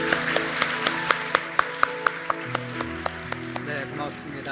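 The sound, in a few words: congregation applause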